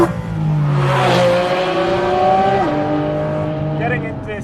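Porsche GT4 RS engine revving hard on the Tail of the Dragon mountain road, a loud sustained high-pitched wail that climbs, drops sharply with a gearshift and pulls again, with a voice talking over it.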